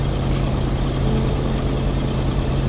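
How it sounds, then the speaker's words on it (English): A vehicle engine idles steadily in the video game Kona, a continuous low, loud hum with no pauses. "I just wish you would turn off your engine. I hate idling noises"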